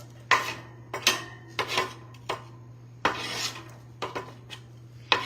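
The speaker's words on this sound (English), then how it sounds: "I'm gonna go ahead and scoop these onions right in" Chopped onions being scooped with a utensil into a sauté pan: a run of close clinks, taps and scrapes of metal on the pan in an uneven rhythm over a low steady kitchen hum, with no talk.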